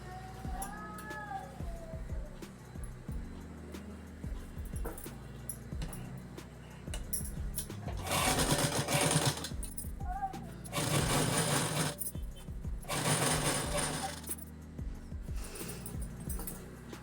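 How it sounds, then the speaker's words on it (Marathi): A sewing machine running a border stitch on a salwar, heard in loud, close bursts of rapid whirring stitching separated by quieter pauses filled with handling noises. "त्याच्यावरती एक तुम्ही किनारीची शिलाई मारायची."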